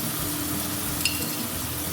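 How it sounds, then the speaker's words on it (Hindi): Chopped ridge gourd being stirred with ginger-garlic paste and spices in a pan, giving a steady, soft sizzle with faint scraping throughout and one brief clink of the utensil midway. "थोड़ा सा हम इसको चलाते हैं।"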